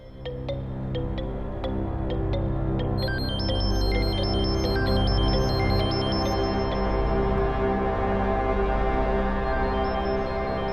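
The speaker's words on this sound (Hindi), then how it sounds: "फोन की आवाज आ रही है" A steady electronic ringtone melody plays on and on over a dense, loud background of music and tones, with no talking.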